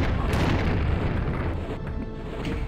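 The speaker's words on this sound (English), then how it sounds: "Let's break out the rocket launcher for this lost soul and his friends." Rocket launcher blasts in Doom II: a dense, continuous roar of heavy explosions, loud and close, with booming low rumble that holds steady throughout and thins slightly near the end.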